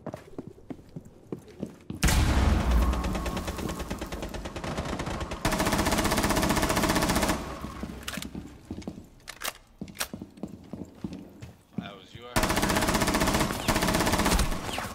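Bursts of automatic gunfire from the Rainbow Six Siege video game come loud and close in long sustained volleys, separated by short gaps with scattered single shots, clicks and footsteps, and no one speaks.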